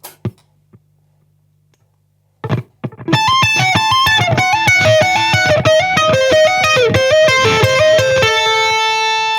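A fast shred lick played on an Ortega ukulele, a few sparse plucks and a short burst before a rapid cascade of bright notes runs continuously to the end, loud and close.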